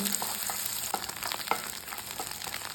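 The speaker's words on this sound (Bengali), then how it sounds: "এবার আমি একটা কড়াইয়ের মধ্যে তেল গরম করে নিয়েছি নিয়ে একটা ডিমকে দিয়ে দেবো" A single egg frying in hot oil in a wok, scrambled for a Bengali egg bhujia, giving a steady soft sizzle with occasional stirring clicks; close but fairly quiet, no talking.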